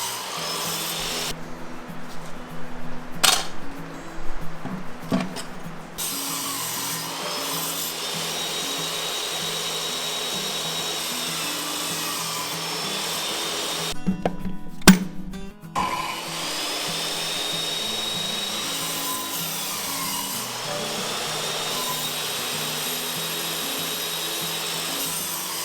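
A carpentry power tool cuts wood while a wooden woodshed frame is hand-cut without metal fasteners. It gives two loud buzzing bursts around a long steady whirring hum, with sharp knocks in between.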